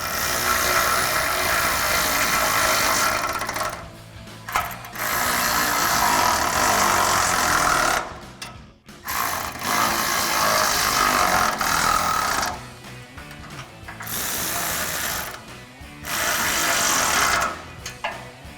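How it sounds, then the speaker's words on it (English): Power tool driving and tightening a bumper bolt and nut on a 2021-2024 Ford Bronco front bumper install: a loud, steady mechanical whir running in long bursts with brief pauses, close up. "I'm going to be using the included Allen wrench for the bolt head, and I'm going to use a 13mm socket to tighten down the nut"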